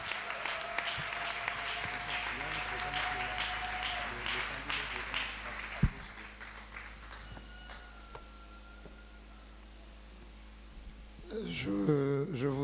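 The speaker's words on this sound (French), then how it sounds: "acclamons pour le Seigneur" A church congregation applauds during a Sunday morning service: sustained, fairly even clapping from a crowd for about ten seconds, thinning out before a voice begins speaking at the end.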